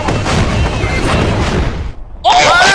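A rocket explosion from the Old Bird enemy in the video game Lethal Company, a loud, sustained roaring blast that briefly drops out before a second harsh burst with whooshing tones.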